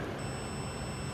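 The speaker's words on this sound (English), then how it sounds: "Meter is beeping." A multimeter's continuity test gives a steady high-pitched electronic beep that holds continuously for the whole moment, with a faint hum underneath.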